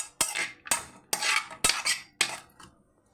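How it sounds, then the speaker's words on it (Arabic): Chicken and garlic stirred together in a pan, five sharp metallic utensil scrapes and clinks against the pan in an irregular rhythm, close and clear, with no talking. "بعد كده هقلبها مع بعضها كده الاول"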